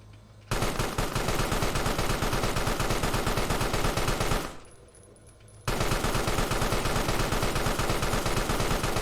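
Turret in the Carrion video game firing a continuous, loud, rapid machine-gun stream, broken by one pause of about a second before it resumes just as hard.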